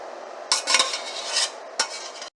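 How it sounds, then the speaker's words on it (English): Cooked noodles are stirred with cheese sauce for homemade mac and cheese, with a few wet, squelching stirs and utensil scrapes against the pot, close up and with no talking. "We're going to add the cheese sauce to the noodles and give it a good mix."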